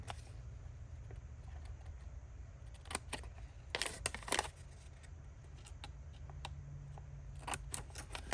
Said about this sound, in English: I'm going to grab my scissors and just cut those corners out.